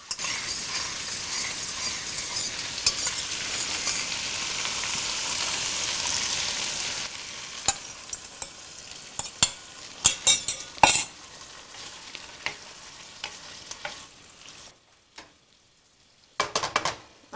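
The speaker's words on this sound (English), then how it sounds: "So you see it's beginning to boil, bubble." Sauce and cabbage bubble and sizzle in a hot pan while being stir-fried for Malaysian Hokkien mee. A dense, steady hiss fills the first several seconds, then thins into scattered sizzles punctuated by sharp clinks and scrapes of a utensil against the pan.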